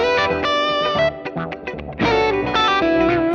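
Electric guitar fitted with Mr Glyn Sassy P90 pickups, played through effects with distortion, chorus and reverb: loud strummed chords and short picked phrases, a brief quieter gap, then ringing full chords.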